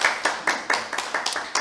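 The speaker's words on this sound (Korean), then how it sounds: "박수까지 쳐주시고." An audience claps by hand in a quick, steady rhythm: about eight sharp, close claps over a second and a half, with no talking over them.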